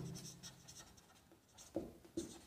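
Marker or chalk scratching across a board during a nursing lecture on crash cart maintenance, quiet strokes with a few sharper taps near the end.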